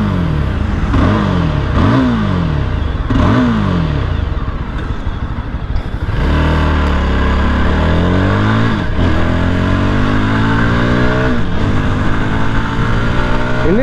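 Scrambler motorcycle engine while riding on the road, loud and close throughout, repeatedly revving up and dropping back through the gears before settling into a steadier, rising drone as the bike accelerates.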